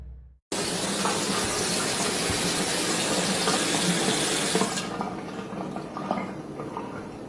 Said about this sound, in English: The water just came on.